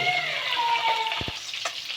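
Rui fish frying in a pan, a dense, even sizzle of hot oil up close, with a couple of brief low knocks near the end and no voices.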